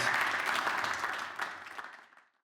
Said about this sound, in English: Can we give David one more round of applause?